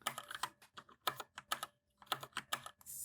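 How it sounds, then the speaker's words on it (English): Rapid typing on a computer keyboard, with close, crisp keystrokes arriving in short bursts separated by brief pauses, and no one speaking. "I had a little keyboard problems there for a while"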